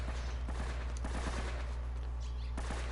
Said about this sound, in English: The gunfire is already starting up.